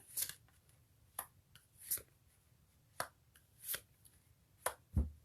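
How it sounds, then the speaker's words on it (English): Playing cards are handled in a series of sharp, quiet riffling snaps, irregularly spaced, close by with no talking. "Y'all heard the Vegas shuffle, so you know it was legit."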